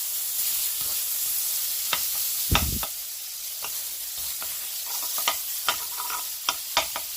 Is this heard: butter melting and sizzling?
yes